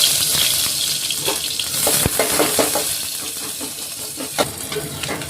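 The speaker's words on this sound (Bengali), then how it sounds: "পেঁয়াজ ভাজা হয়ে গেছে" Onions frying in hot oil in a pan on a home stove for a banana curry, a continuous bright sizzle with occasional stirring clinks and scrapes and no talking.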